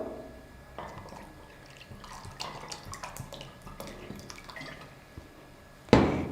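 Plain tap water poured into a bowl with soft trickling and dripping, rising to a louder splash at the end, heard alone without talking.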